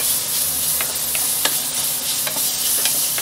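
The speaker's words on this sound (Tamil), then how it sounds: "ஒரு நிமிஷம் நல்லா வதக்கிடுங்க" Sautéing in a pan for a soya gravy brings a close, steady sizzle with repeated clicks and scrapes of a spatula moving through the food at an irregular pace.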